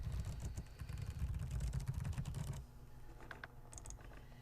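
Typing on a computer keyboard while filling in a sign-up form, a quick run of close, rapid key taps for about two and a half seconds before easing into a quieter stretch with a few scattered clicks.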